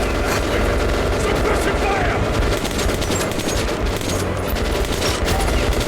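Gunfire from the video game Metro Last Light Redux, dense and continuous, loud bursts of shots layered with heavy low rumble across the whole stretch, with a voice talking over it.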